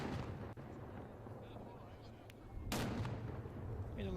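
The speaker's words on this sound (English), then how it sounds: "Trombunas are also very important participants of the festivity, as they mark important moments by shooting from their old historic arms." Trombunas fire old historic guns during the Saint Blaise festivity in Dubrovnik, heard as a distant, faint report and a louder booming blast a few seconds later against a low background of crowd noise.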